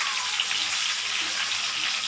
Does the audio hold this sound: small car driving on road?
no